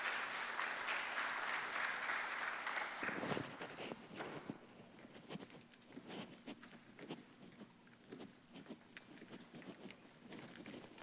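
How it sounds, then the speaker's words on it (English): At a Black History program, a room applauds as a woman comes forward, dense clapping for about three seconds that suddenly breaks off into scattered footsteps, shuffling and light taps, all fairly faint. "Let's give her a round of applause."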